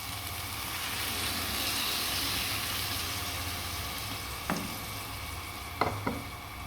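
Boiled lentils stirred into a frying shrimp masala, a steady sizzle with a few sharp clinks of a utensil against the pot near the end.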